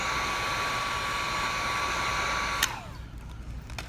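A heat gun blows steadily on headlight tint film, a loud even whoosh with a high whine that clicks off partway through, leaving a quieter room.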